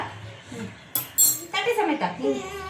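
A metal spoon clinks and scrapes against a plate as a child and adult cook together at home, a few short bright clatters under quiet talk.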